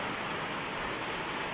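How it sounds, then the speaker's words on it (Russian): Heavy rain pouring down during a thunderstorm, a dense, steady hiss of downpour filling the whole moment with no talk over it. "Одуреть, какой ливень пошел."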